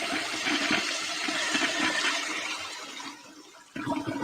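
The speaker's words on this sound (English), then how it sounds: "I don't think I've ever noticed the actual toilet bowl sound at the end." A toilet flushes with a loud rushing swirl of water that drains away and fades, then a brief burst of refilling water returns at the end, with no talk over it.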